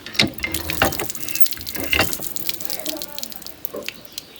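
Hot water is pumped from a deep tube-well hand pump. It gushes and splashes in uneven surges with each stroke, close and fairly loud, and voices talk in the background.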